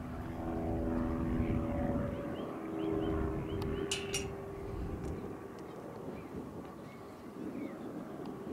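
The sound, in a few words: French-designed Karei model aircraft flying in light wind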